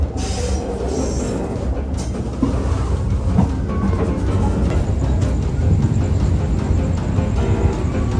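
The Wijaya Kusuma passenger train rolls along the rails with loud rumbling, rhythmic wheel clatter and occasional metallic squeals, close and continuous.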